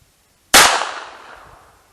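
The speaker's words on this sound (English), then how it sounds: "CCI Stingers through the NAA Mini Revolver." A single sharp gunshot from a North American Arms Mini Revolver firing CCI Stinger .22 LR rounds into ballistic gel, loud and close, with a sudden crack that decays over about a second and a half.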